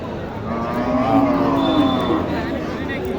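A Gir heifer at a busy cattle market gives a drawn-out, fairly close moo over steady crowd and market noise.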